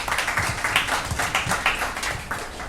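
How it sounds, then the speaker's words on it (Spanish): An audience welcomes a speaker at a business talk with applause, a steady mass of claps from a crowd that holds at an even level throughout. "Demos la bienvenida y un gran aplauso al doctor Ricardo Antequera"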